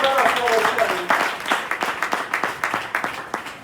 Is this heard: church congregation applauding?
yes